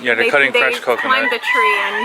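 Roosters crow loudly in the background while a person talks close by in a rural Philippine mountainside near Mayon Volcano, their calls overlapping the speech throughout.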